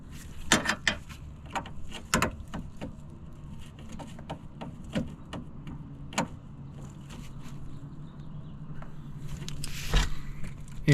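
A radiator drain plug on a Ford Transit Connect van is retightened, giving a series of sharp ratcheting clicks and metallic taps, irregular and close, with quieter scraping between them.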